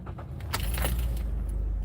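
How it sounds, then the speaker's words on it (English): A car with a maintenance-required warning starts up: after keys jangle, the engine catches about halfway through and settles into a close, steady low idle, with bright clinking of keys over it. "Let me see how it starts up."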